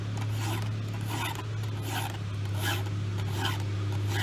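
A hand file rasps across chainsaw teeth in steady, repeated strokes, close and fairly quiet, over a constant low hum.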